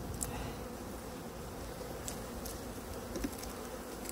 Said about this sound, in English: You look and you think there's a lot of bees